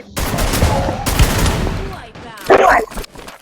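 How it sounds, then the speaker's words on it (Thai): Gunfire in the Free Fire video game, loud close bursts of shots with a crackling rattle, mixed with game sounds and a voice talking briefly. "ลุงยิงเลยผมยิงให้"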